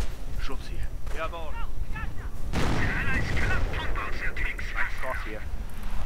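Tank cannon and gunfire from a Panzer 4 in a WWII strategy video game, a heavy boom midway amid ongoing battle noise, with someone talking over it.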